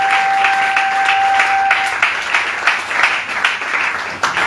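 A church congregation claps and cheers in a large room, loud, continuous applause and shouting with no break.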